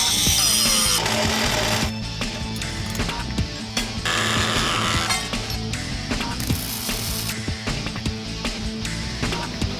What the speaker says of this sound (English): Then we cut and grind.